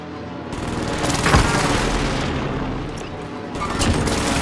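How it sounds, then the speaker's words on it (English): Airstrike explosions in Call of Duty Warzone Plunder mode: loud booming blasts and rumbling rapid detonations roll continuously, with one heavy impact near the middle and another surge at the end. "Allied precision airstrike incoming"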